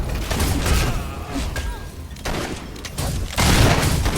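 Gunfire in the fantasy action game Fable III, booming shots and thuds over a dense wash of battle noise, loud and fairly continuous.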